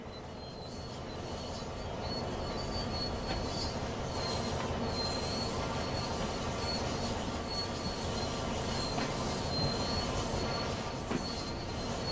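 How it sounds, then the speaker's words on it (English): A train in Train Sim World 5 rumbles steadily along the tracks with a continuous low roll and occasional metallic wheel squeals, no voices. "Drive the train back into the siding now."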